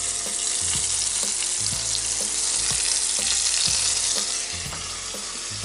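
Chicken heart chops, coated in egg and flour, fry in melted oil in a skillet, giving a steady, dense close-up sizzle with occasional soft knocks and taps throughout.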